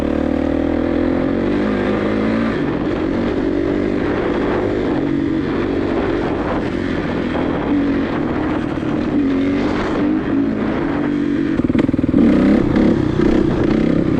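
A 2017 Kawasaki 450 KXF dirt bike is being ridden, its engine droning steadily and close with rising and falling revs under heavy wind buffeting, with no talk.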